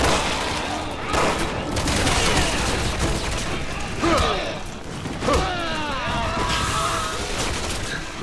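Loud, sustained gunfire from the Resident Evil 6 video game, with rapid bursts and overlapping shots over a busy game mix, and some talking in between.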